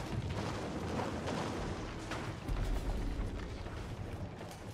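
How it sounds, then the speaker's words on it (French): Mangonel catapults firing during a 2v2 Age of Empires match, heard as a dense rumble of booming impacts and crashing battle noise, loud and continuous with no clear breaks, no voices on top. "Allez, faites-nous plaisir, un gros tir de mangonos."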